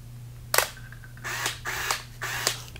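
Sony Alpha A100 35 mm SLR camera with adjustable lens running its autofocus, heard as a sharp click followed by three short whirring bursts of the focus motor, close and alone over a low steady hum.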